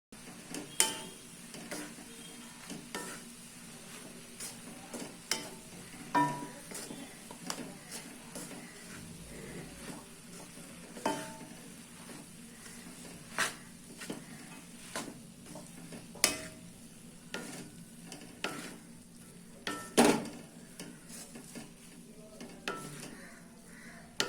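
Kodo millet egg noodles tossed with tastemaker in a pan, soft repeated scraping and clinking of a spatula over a faint sizzle, quiet and close with no talking.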